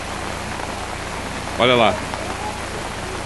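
Steady, heavy rain hisses continuously during days of flooding in Matão, Brazil, with a man's brief remark rising over the downpour partway through.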